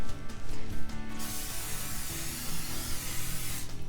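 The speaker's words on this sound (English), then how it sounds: "I'm gonna use a little bit spray oil" Cooking oil sprayed from a can onto a hot grill pan, a steady broad hiss lasting a few seconds at close range, opening with short bursts and ending abruptly, with no one talking.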